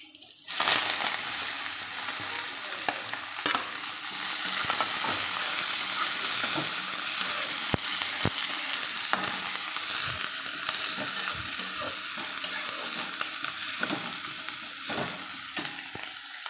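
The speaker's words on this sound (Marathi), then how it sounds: "तेल गरम झाले का बघू आपण झाले गरम चला तर मग कांदा तळून घेऊ" Steady, crackling sizzle of onion frying in hot oil, with occasional stirring scrapes and clicks, close and continuous throughout.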